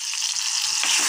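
Hot tempering is poured into a cooking colocasia dish, giving a bright crackling sizzle that swells and holds close to the pan, with no voices.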